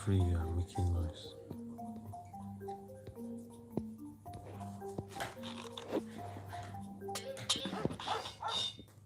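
A dog barks and whimpers in a video game, with high whining yelps and short barks scattered over a steady in-game drone and tonal music. The dog sounds moderately close and comes in repeated bursts.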